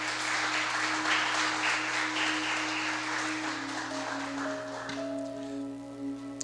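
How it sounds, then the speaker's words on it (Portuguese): Church congregation applauding loudly for the Lord during a sermon, a steady wash of many hands clapping that fades out, with a sustained tone underneath. "Aplauda ao Senhor bem forte"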